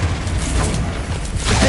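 A Confringo fire spell from Hogwarts Legacy goes off in a loud, continuous rumbling burst with crackling mechanical texture, filling the short moment without speech.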